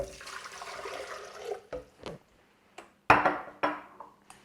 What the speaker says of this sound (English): First up, 2 cups of water.